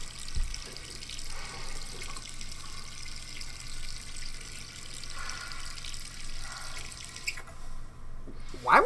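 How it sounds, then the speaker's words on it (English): In the video game Resident Evil 3 Remake, a water tap is left running. It gives a steady, soft trickle with faint drips that continues throughout, with no voices. "Why would you leave your water on?"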